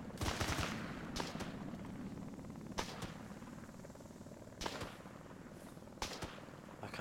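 Gunfire in ArmA 3 during a firefight: loud sharp shots in short bursts over a dense constant rumble, with several distinct cracks spaced a second or two apart, close and dominant, no voices.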